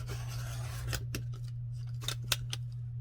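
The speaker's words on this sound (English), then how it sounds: "You could put a ruler and draw a line and cut it with your scissors to make sure it's straight" Scissors cutting through cereal box cardboard, a few crisp snips and rasping slices close by over a steady low hum, with no talking.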